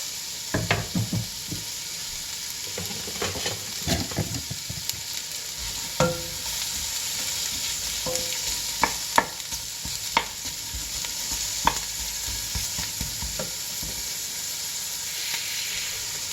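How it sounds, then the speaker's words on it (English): Onions gently stir-frying in a pan give a continuous close sizzle and hiss, with occasional clicks and scrapes of stirring and no talking. "let's get the onions to going. I'm going to gently stir fry these until they are translucent."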